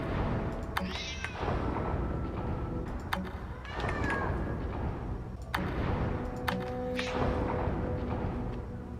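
Schroeder's cat in the video game Lightmatter meowing repeatedly, a string of loud drawn-out meows and yowls at intervals over a droning game background.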